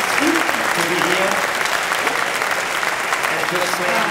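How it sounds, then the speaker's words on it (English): Audience applause for speaker Janice at a blockchain tech conference talk, a steady dense wash of clapping that holds loud and even throughout, with some voices faintly mixed in beneath. "So a big applause for Janice"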